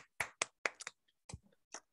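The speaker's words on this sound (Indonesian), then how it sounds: "Tepuk tangan buat Hello Kitchen dan tim" A few people clap for Hello Kitchen and the team: sparse, separate hand claps in an irregular handful, close but quiet against near silence.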